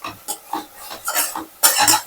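Pudina rice mixture is stirred in a pot in a quick run of close, wet, squelching scrapes and clinks about every quarter second. There is no talk.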